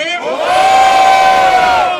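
A rap battle audience erupts in loud, sustained cheering and shouting, one strong held yell rising over the crowd roar, close and intense for the whole moment.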